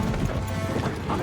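Horses gallop hard in a scene from a Planet of the Apes film. The dense, rumbling hoofbeats form a continuous loud bed with a thick cinematic score underneath.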